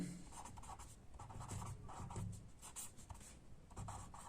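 Marker or chalk writing strokes on a classroom board during a Hindi science lesson on blood groups, steady scratchy scribbling at close range with no talk.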